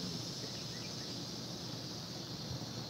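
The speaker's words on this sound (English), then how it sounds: "listening to the cicadas" Cicadas drone outdoors on a back patio in fine weather, a steady buzzing wash with no breaks, faint and distant-sounding throughout.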